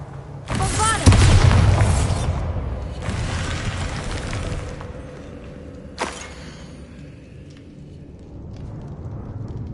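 A Bombarda blast spell in Hogwarts Legacy goes off with a heavy, booming explosion and rumbling debris. A second sharp crack follows a few seconds later, then a fading low rumble.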